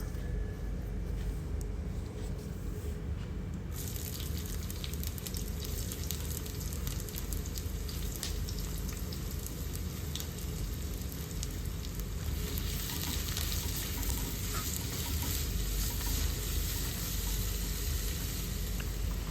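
Coconut oil heats in a clay pot, sending up a steady, loud, close sizzle and crackle that continues without a break.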